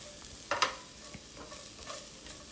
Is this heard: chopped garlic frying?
yes